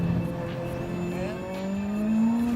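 A twin-charged Lotus race car running on rocket fuel, its engine whirring and climbing in pitch as it accelerates through a short, fairly loud pass with no talking.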